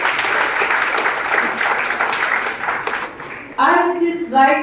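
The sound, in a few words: audience applause at school jubilee inauguration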